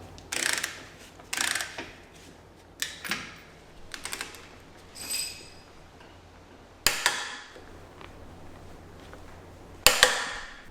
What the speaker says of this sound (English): So now we need to tighten up those two bolts and then torque them up